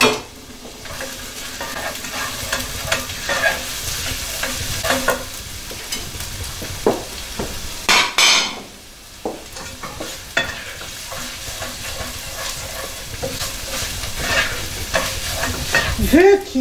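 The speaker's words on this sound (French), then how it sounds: "Je vais brunir mes oignons. Je mets de l'ail." Onions and garlic browning in a pan for broccoli moambe, a steady loud sizzle with repeated scraping strokes of a utensil stirring against the pan and a few sharper clanks.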